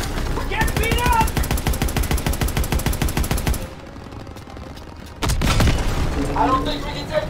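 Rapid machine-gun fire and heavy explosions boom through a World War II tank battle against a German Panzer in Call of Duty: WW2, a loud sustained barrage that drops briefly before another blast, with shouting voices mixed in.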